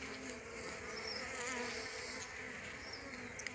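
Honeybees buzz steadily in an open hive during a rainy-season inspection, a dense close swarm hum that fills the whole short stretch without any voices.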